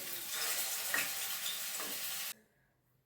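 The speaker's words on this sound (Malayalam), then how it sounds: "ഓരോന്നായിട്ട് പരത്തി നമുക്ക് എടുത്തിട്ട് ഫ്രൈ ചെയ്തെടുക്കാം കേട്ടോ." Chicken pieces for chicken pickle frying in a pan, a steady loud sizzle with faint stirring scrapes, running alone for a couple of seconds before cutting off abruptly to silence.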